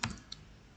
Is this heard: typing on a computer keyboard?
yes